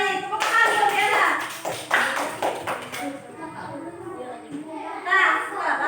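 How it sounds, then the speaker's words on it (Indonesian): Children in a classroom clap for a classmate after she answers a maths question, a quick burst of uneven claps mixed with young voices and chatter. "Tepuk tangan buat Diana"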